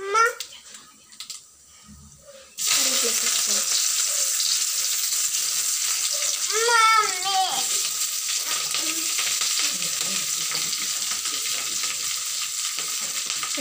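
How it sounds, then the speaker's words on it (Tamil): Onion, green chili and curry leaves drop into hot oil already crackling with mustard seeds and urad dal for a cassava stir-fry. After a quiet start, a loud, steady sizzle erupts and holds to the end, with faint stirring beneath. "இப்போ வெங்காயம், பச்சை மிளகாய்,"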